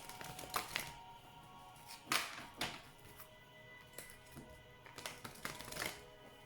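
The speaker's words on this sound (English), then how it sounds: "as I shuffle the cards" Oracle cards being shuffled by hand, heard as scattered soft papery riffles and flicks in bursts, fairly quiet and close, with no one talking.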